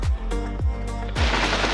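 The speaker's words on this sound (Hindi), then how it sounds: "यहाँ पे जी ये पटाखे जला रहे हैं यार।" Firecrackers set off outside a temple in Phuket, Thailand: three loud, sharp bangs roughly half a second apart, each with a deep boom and a short ringing decay, close by.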